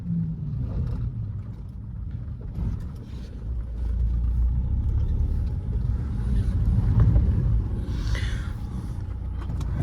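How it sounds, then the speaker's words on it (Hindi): A Mahindra XUV500 engine roars and builds in a steady low rumble during a drag race, surging louder toward the end as the vehicle speeds up. "आती है और बहुत खतरनाक तरीके से भगती हुई आती है वो वाली गाड़ी"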